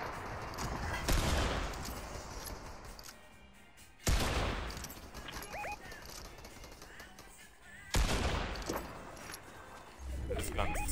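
Three loud bursts of video game gunfire ring out at roughly four-second intervals, each a sharp crack that tails off into rattling echo, with quieter game sounds in between.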